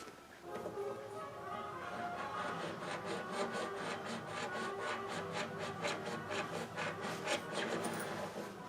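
A utility knife blade scrapes and cuts along the inside edge of the sunburst finish on an old L7 archtop guitar, giving a steady rasping, scratching sound with rhythmic strokes close up and no talk.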